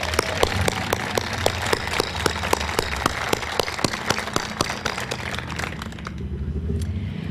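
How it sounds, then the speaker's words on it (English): Applause from an audience at the unveiling of Leonardo's horse sculpture, a dense, steady patter of many hands clapping with sharp individual claps standing out, fading toward the end. "let's give him, and also Tom, who's not here, a round of applause"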